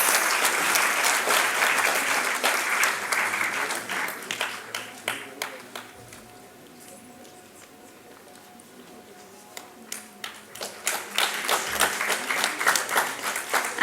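Audience at a technical session awards ceremony applauds the best paper winner with a burst of clapping that fades to near silence mid-way, then returns in scattered claps.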